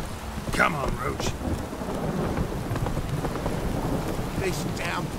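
Heavy rain and rolling thunder in The Witcher 3 game world, a dense steady downpour hiss with low rumbling, and a couple of short voice-like sounds early on.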